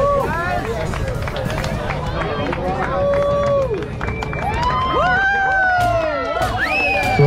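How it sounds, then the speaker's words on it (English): Crowd cheering and whooping at a mountain bike race championship final at Oleta River State park, steady and fairly loud, with shouts and whistles rising over constant babble for several seconds. "That's a crowd. Nice crowd."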